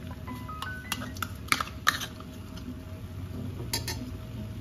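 Yogurt spooned into a cooking pot for deghi qorma, with faint clinks and taps of a metal spoon against the pot over a low kitchen background, no talking.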